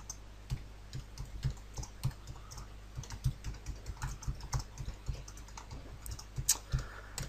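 Typing on a computer keyboard while entering screenplay dialogue in Final Draft: quick, uneven runs of crisp key clicks close up, with occasional louder taps and no voices.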